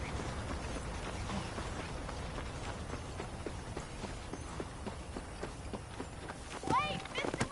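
Horse hooves clop at a quick trot or gallop in the Western video game Red Dead Redemption, a steady run of thuds in the foreground, with a brief whinny-like sound near the end.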